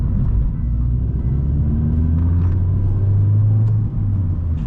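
A loud Vauxhall Corsa rumbles along the road from inside the cabin, its engine droning steadily with slight rises in pitch as it accelerates, a constant low roar throughout.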